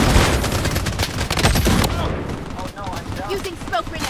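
Rapid bursts of automatic gunfire crackle loud and dense in the shooter game Bloodstrike, then thin into scattered shots as excited voices talk over the action.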